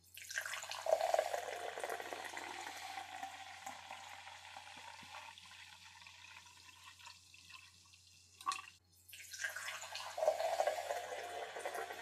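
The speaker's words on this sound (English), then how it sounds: "Here's another pour." Flavored soda poured into a rinsed glass, a fizzing, trickling pour that hisses steadily for several seconds, drops briefly, then swells again near the end, close and with no talk.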